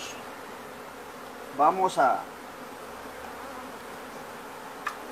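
A bee swarm being moved into a standard hive outdoors, a soft steady buzz of many bees under the ambient hiss, with a short spoken word from a person briefly rising over it.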